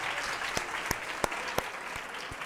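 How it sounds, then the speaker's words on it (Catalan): Studio audience applause on a Catalan TV letter quiz show, a steady wash of clapping with a few sharper individual claps standing out, moderately distant. "t'aplaudim i et convidem a seure"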